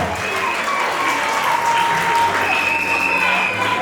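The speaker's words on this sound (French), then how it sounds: "Applaudissons très très fort." Wedding guests applauding loudly and continuously for the king as he returns to his seat, a thick, steady roar of clapping with a sustained musical tone and murmuring underneath.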